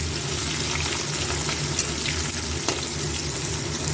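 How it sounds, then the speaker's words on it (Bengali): Onions fry in a pan with a dense, steady hiss close by, an even sizzle that runs unbroken throughout with no voices. "পেঁয়াজগুলো একটু ভাজা ভাজা হোক"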